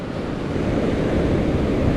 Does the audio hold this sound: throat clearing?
no